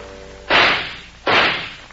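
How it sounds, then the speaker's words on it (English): Two sharp gunshot effects in a radio drama, each a loud crack with a short decaying tail, spaced under a second apart, with no talking. "Hey, that's nice shooting, Jim"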